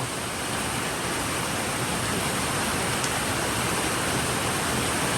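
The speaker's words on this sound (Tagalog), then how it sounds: "malakas ang ulan" Heavy rain pouring steadily in a Philippine neighborhood, a dense, loud, unbroken hiss with no voices.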